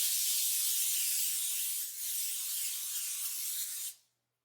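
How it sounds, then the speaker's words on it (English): Cooking spray hissing from a can onto a baking pan for cinnamon rolls, one continuous close spray lasting about four seconds with a brief dip midway before it cuts off sharply. "going to want to spray your pan with some sort of spray"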